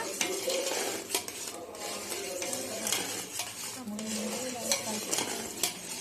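Thick jaggery syrup bubbles and sizzles in a pan as a spoon scrapes and clinks against the metal in steady stirring strokes.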